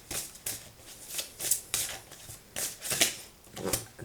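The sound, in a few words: oracle cards being shuffled and drawn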